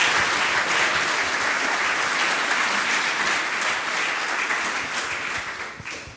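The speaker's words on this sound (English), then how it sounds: "give an applause to our sponsors" Loud, sustained applause from a large audience, steady throughout and tapering off slightly at the end.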